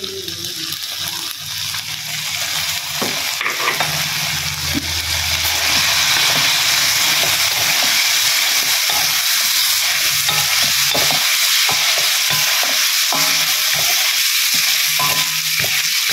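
Chicken pieces frying as cooking oil goes into a nearly dry pan, a loud continuous sizzle swelling up and staying strong, with scattered clinks of a stirring utensil, close up and without speech.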